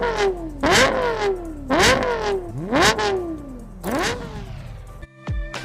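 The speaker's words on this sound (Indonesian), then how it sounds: "Digarap bersama dengan Yamaha dengan konfigurasi V10, seukuran V8 dan lebih ringan dari V6, menghasilkan 553 horsepower dengan teriakannya yang menggugah siapapun yang mendengarnya" Lexus LFA with its Yamaha-developed V10 revs hard four times in quick succession, each shrill rising wail snapping back down between blips, close and loud, then a short metallic clatter at the end.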